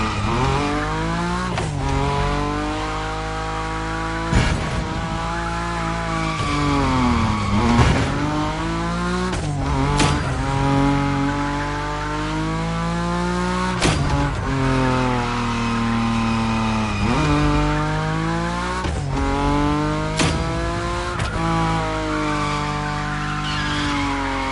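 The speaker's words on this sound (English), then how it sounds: "Your Nismo is powerful enough to slide along on its own when you're at high speed" A Nissan Nismo drifts at high speed in The Crew Motorfest, its engine droning loudly and steadily while tires squeal, with the revs repeatedly sweeping up and down through long slides.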